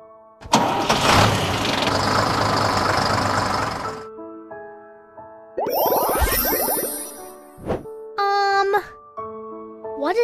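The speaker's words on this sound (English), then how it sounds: "Bus!" A bus engine rumbles at idle, loud and steady for about three and a half seconds before cutting off, followed by a voice with bright toy-like tones.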